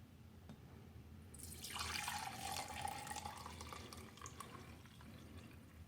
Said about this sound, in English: I'm going to try to pour this into the cup here, so that way I don't make that much of a mess.